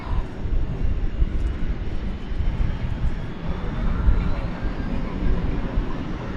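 A jet airliner rolls for takeoff on runway 18 Left at DFW Airport at night, a steady broad engine roar with deep rumble, moderately loud and unbroken, with faint radio-like chatter underneath.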